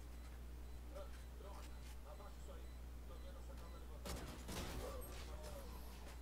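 Bursts of rapid gunfire in a shooting video game, quiet under a constant low hum, with a louder crackling volley toward the end while players talk over it.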